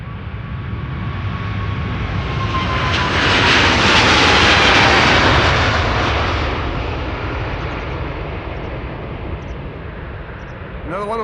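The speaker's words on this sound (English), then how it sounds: "all the wide bodies to the east and west alike will take off from this runway" A wide-body jet airliner takes off at Amsterdam Schiphol, its engine roar building to a loud peak mid-clip and then fading as it climbs away, with a faint voice briefly under the noise.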